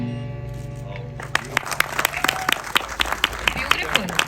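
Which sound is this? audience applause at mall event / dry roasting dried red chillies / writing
audience applause at mall event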